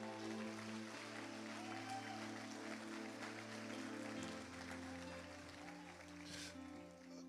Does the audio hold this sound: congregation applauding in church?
yes